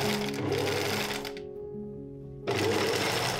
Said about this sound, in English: I prepare the sewing machine, put the pattern pieces together in pairs, and then start to sew each pair together.